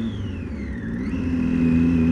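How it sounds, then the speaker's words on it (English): A Triumph Daytona 675 sport motorcycle engine revs close up, its pitch dipping then climbing into a steady high whine with no voices. "raw simplicity of just hearing the engine"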